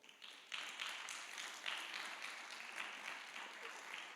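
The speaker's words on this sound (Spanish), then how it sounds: "vamos a dar un fuerte aplauso por eso" Applause from a church congregation, a dense, steady wash of many hands clapping that swells after a brief start and carries on evenly throughout at moderate distance.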